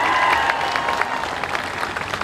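Crowd at a Foster Farms Bowl pep rally at Embarcadero Plaza in San Francisco applauding the Purdue band, cheer, dance and twirler team, a steady wash of many hands clapping nearby that thins slightly toward the end.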